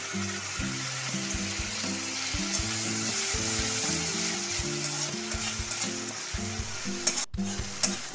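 Chopped ginger, garlic and green chilli sizzle steadily in hot oil while being stirred, with a continuous crackling hiss under a melodic background music track and no talking.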